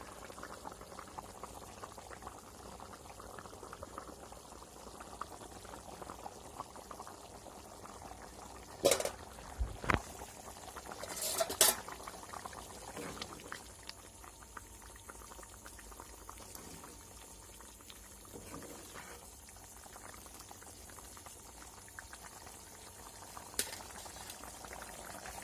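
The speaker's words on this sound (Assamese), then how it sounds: "এয়া চাওক, কি ধুনীয়াকৈ উতলি আছে মাংস।" Meat boiling in a pot on a home stove, a steady low bubbling simmer running throughout, with a few brief louder clatters midway and faint voices in the background.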